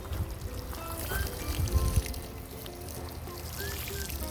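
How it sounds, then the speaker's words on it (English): Water poured over newly planted red Creole onions in an elevated raised garden bed, a steady close trickle and splash that swells briefly in the middle, with no talking. "Now let me water you in."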